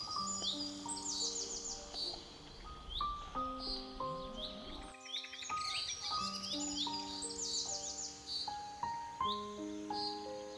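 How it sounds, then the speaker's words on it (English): Birds sing and chirp in lush green rural Kerala, with several overlapping whistled calls and trills repeating steadily at moderate distance, with no talking. "chirping of the birds adds magic into it"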